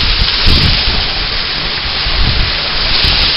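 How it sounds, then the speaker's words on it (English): Blustery wind roars on a mountain during a small squall with sprinkling rain, a loud continuous buffeting rush that fills the whole clip. "windstorm, little bit of sprinkling rain."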